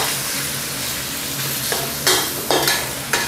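Garlic and thin-sliced pork stir-fried in a hot pan for Thai soy sauce fried rice, a steady sizzle broken by several sharp scraping stirs near the end.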